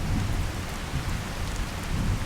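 Wind from a dust storm in Fallout 4 with the True Storms mod, heard as a steady, loud roar with low gusting rumbles that swell and fade throughout, with no voices.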